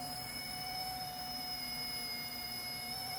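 An RC ERA C123 Eurocopter EC135 RC helicopter spins up for takeoff: a faint, steady electric motor whine with constant high tones over a low background rumble, and no voices.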